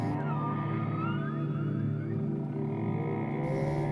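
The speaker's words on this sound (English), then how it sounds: "an incredible symphony of dozens of whales all making the songs and sounds together and moving" A chorus of many whales sings together underwater, long rising and falling tonal calls sliding and overlapping above a steady low drone, sustained and fairly quiet, with no voices.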